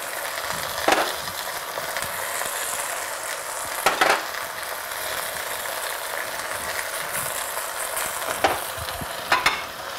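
Onions and spices frying in a pan for spicy braised eggplant, a steady sizzle broken by four sharp utensil scrapes and clanks at irregular intervals, with no voices.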